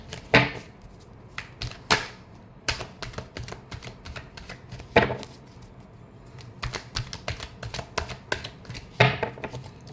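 Tarot cards are shuffled by hand in a quick series of crisp riffles and snaps, with sharper bursts every couple of seconds over softer rapid flicking, close and fairly loud.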